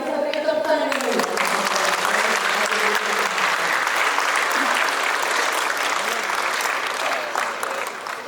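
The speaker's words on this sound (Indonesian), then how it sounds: "Mari kita beri tepuk tangan yang meriah." Loud, sustained applause from the audience at the opening ceremony of the 9th Indonesia International Geothermal Convention and Exhibition 2023, beginning under a brief voice and then dense continuous clapping, tapering slightly at the end.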